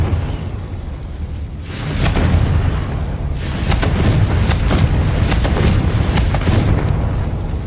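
A Confringo fire spell in Hogwarts Legacy erupts in heavy rumbling booms, a low roaring blast that swells after a short pause and keeps rolling with crackling bursts.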